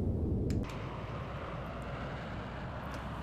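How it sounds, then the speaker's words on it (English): Single Volvo RM12 afterburning turbofan of a Saab Gripen running up in the X-Plane flight simulator, a steady loud engine roar with a brief heavier surge at the start before settling into a constant drone. "let's run up our single Volvo RM12 afterburning turbofan"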